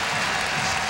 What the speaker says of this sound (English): So he felt good about that round of applause.